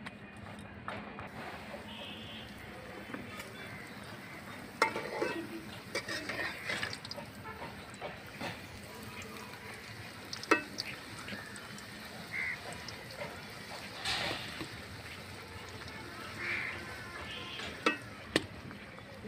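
Luchi, puffed Bengali bread, frying in hot oil, a soft bubbling sizzle with scattered light crackles and occasional stirring clinks, fairly quiet and steady.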